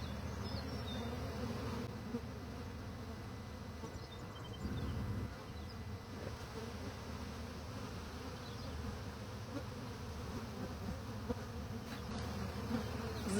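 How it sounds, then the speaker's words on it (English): A large spring swarm of honey bees fills the air with a dense, continuous buzzing drone, steady and fairly quiet throughout, with no voices. "This is a pretty big swarm"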